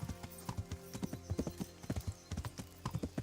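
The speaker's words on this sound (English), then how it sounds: "Todavía está el caballo ahí esperándome." Horse hooves clip-clop in a video game, a steady, brisk run of distinct clopping beats, close and clear with no voices over them.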